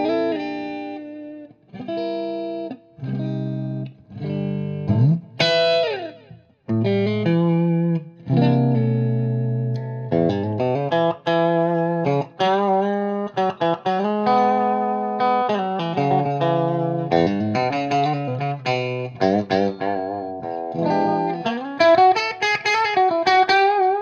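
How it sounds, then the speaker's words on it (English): An electric guitar plays through a custom Metropoulos amp with an El Capistan tape delay in the effects loop, giving a continuous melodic line of sustained, effected notes and chords with audible delay and chorus-like shimmer, no talking. "I do have an El Capistan in the effects loop"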